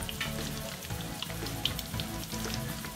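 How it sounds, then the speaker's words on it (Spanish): Torrijas, bread slices soaked for an Easter sweet, frying hard in hot oil in a pan, a steady close crackling sizzle with scattered pops throughout and no talk. "Ahí se fríe vuelta y vuelta, fuertecito"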